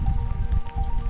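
Heavy rain drums steadily on a surface, a dense, continuous low patter with no pauses, close and fairly loud with no voices.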